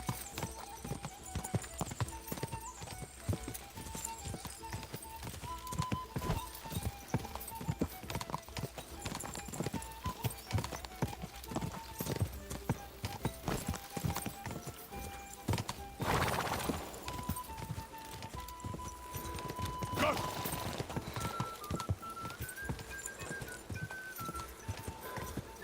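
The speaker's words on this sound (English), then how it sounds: "Look, horse, please, can you just go a little faster?" Horse hooves gallop in a steady, fast clip-clop rhythm across a medieval open world in Kingdom Come: Deliverance II, continuous and close, with game music and ambience underneath and a brief crash partway through.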